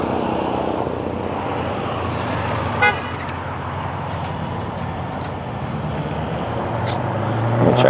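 A rather loud car passes on a roadside while a hitchhiker waits, its broad engine and tire roar filling the whole stretch and swelling again near the end, with a brief horn-like toot partway through.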